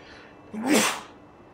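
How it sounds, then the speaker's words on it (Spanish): A character in Genshin Impact sneezes once, a single short, fairly loud burst over a quiet background. "Más que otro estornudo que me viene."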